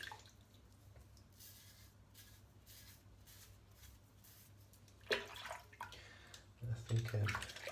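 A razor is rinsed under running water during a head shave: soft trickling and dripping at first, then louder splashing and swishing bursts near the end, with quiet background hum.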